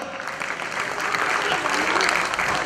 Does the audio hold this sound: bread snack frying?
no